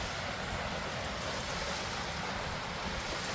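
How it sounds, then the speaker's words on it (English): A waterfall near a small bridge at Ullswater in the Lake District in autumn gives a constant, dense rushing roar, close and steady, with no voices. "there's a little bridge just on top of the waterfall actually"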